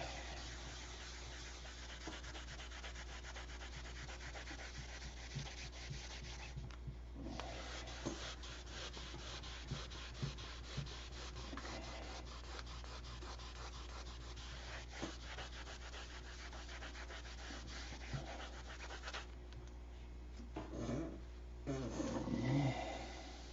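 A clear-coated surface is sanded by hand with a steady, continuous rasping rub over a constant low hum, the strokes running on without pause and growing a little louder near the end.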